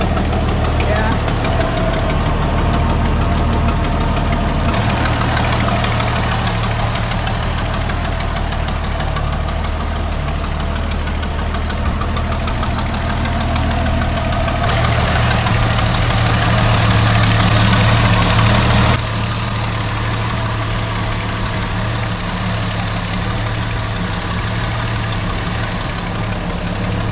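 A 1973 Dodge Dart Swinger barn find runs at idle just after its first start in 29 years, a steady rough engine drone with knocking and vibration, its loudness shifting in sections as the engine oscillates, heard close up.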